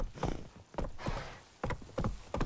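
Horse hooves clip-clopping in The Witcher 3 video game, several distinct hoofbeats at an uneven trotting pace, moderately close and fairly quiet, with no speech.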